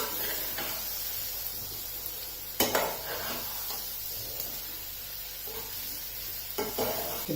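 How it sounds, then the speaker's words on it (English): Three vegetables sauté in a pan with a steady, even sizzle throughout, broken by a couple of sharp clinks and scrapes of a utensil stirring against the pan. "We will let all the three vegetables that I have already added saute for a bit."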